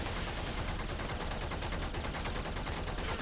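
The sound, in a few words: assault rifle firing in the video game Warframe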